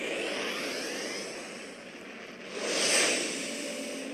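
Spaceship warp engine in the space game Second Galaxy, a loud sustained whooshing roar that swells near the end, heard alone without talk.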